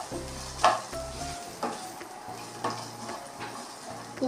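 Carrots stir-fried in a pan give a soft, steady sizzle broken by repeated utensil scrapes and clinks against the metal, close and fairly quiet, with no voices.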